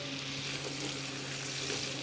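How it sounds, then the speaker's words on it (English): Honey caramelising in a hot pan with pork belly gives a steady, even sizzle throughout, a close and constant crackling hiss with no talking. "all the natural sugars in the honey will start to caramelise in the pan"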